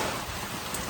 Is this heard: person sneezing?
no